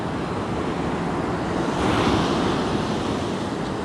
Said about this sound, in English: The waves are a little bit bigger than ideal, but still somewhat manageable.